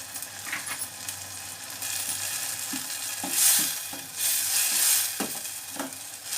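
Ginger garlic paste frying in a pan for an egg masala curry, a steady sizzle with a few scrapes and light clinks of the spoon, close and alone.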